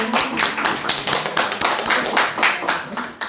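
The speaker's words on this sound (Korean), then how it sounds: "박수 부탁드릴게요." Clapping from a small audience at a meeting with a newly elected lawmaker about a municipal medical center, a few close, fairly loud pulses of hands that rise and fall in short bursts.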